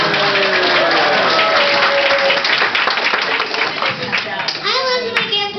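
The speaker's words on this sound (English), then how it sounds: "Give him a round of applause." A family crowd at a grandfather's 70th birthday celebration bursts into loud, sustained clapping and applause close by, with voices and cheers mixed in throughout.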